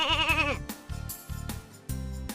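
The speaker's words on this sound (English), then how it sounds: "That's a sheep." Close, loud sheep bleating from a dairy farm: one long quavering bleat, then several shorter broken calls over a low background hum, with no voices.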